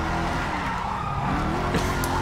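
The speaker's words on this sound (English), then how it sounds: "Drifting." Car tires skid and squeal through a drift in a video game, a steady, loud screech with engine roar underneath that runs unbroken throughout.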